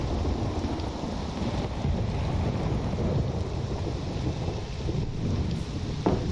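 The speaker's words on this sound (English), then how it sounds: "I guess I'm better with the rain than an ash storm" Steady rain and rumbling thunder from the weather system in the video game Morrowind, a dense continuous wash of downpour with low rolling thunder throughout, no voices.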